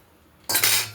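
A utensil stirring food in a cooking pot: a sudden sharp metallic scrape and clatter begins halfway through after near silence, loud and close, lasting about half a second.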